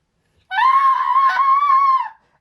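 A single loud, high, sustained shriek of a boy falling into a river, lasting under two seconds and heard alone against silence.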